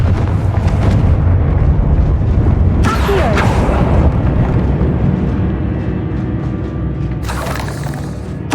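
A Confringo spell bursts into a loud, booming explosion in Hogwarts Legacy, with a heavy rumbling blast that decays over several seconds and a second sharp crack near the end.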